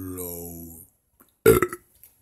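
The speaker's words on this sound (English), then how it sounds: "Excuse me for burping." A man burps once, a short loud throaty eruption close to the mic, following a stretch of his own speech that stops just before it.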